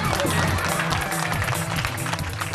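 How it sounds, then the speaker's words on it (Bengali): Audience clapping loudly and continuously at a Bengali comedy stage show, a dense sustained burst of applause filling the room with crowd noise mixed in. "ওর জন্য একটা হাততালি দিয়ে দাও।"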